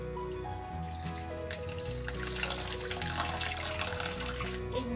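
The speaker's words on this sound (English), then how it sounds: "use cold water to stop the cooking process" Cold tap water runs steadily over drained glass noodles in a sieve, a continuous splashing stream with a faint hum behind it and no talking.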